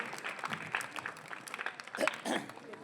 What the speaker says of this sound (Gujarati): આપણે તાળીઓના ગડગડાટથી એમને વધાવીએ